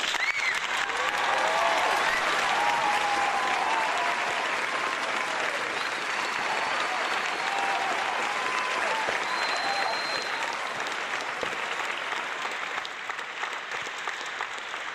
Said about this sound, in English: just give them a round of applause before we start